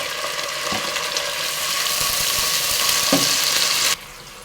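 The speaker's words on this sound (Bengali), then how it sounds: "পেঁয়াজগুলো ভেজে নেব দিয়ে দেব এক চামচ আদা বাটা রসুন বাটা দু চামচ" Chopped onions frying in oil with ginger and garlic paste for a beef and potato curry, a loud continuous sizzle with occasional spatula knocks, cutting off abruptly near the end.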